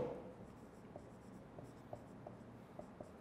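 Chalk or marker tapping and scratching on a board during a chemistry lecture, faint short strokes in an irregular rhythm over a quiet room hum.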